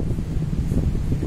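Wind blowing through the ruined stone walls of an old castle building, a steady low rumbling buffet that fills the whole short moment, loud and close against the microphone with no voices.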